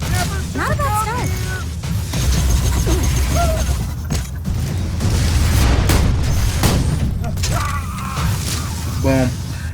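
Black hole Nova explosions from an electric Mechromancer Gaige build in Borderlands 2 boom through a dense wash of mechanical clanks and game effects, with voice-like chirps over a steady loud rumble.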